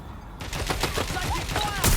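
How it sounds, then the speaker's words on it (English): Rapid gunfire crackles in a Watch Dogs Legion firefight, a quick burst of sharp shots packed closely over a noisy game background with voices mixed in. "Someone's shooting!"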